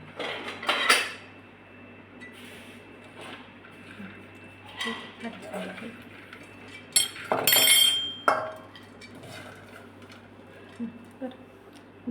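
A spoon clinks against a bowl while bhel is mixed, producing scattered chinks and scrapes in short bursts with quieter gaps between them, close by, over a steady low background hum.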